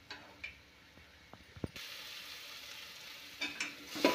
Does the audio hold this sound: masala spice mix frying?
yes